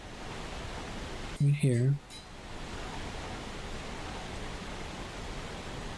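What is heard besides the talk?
white noise track playing from a playlist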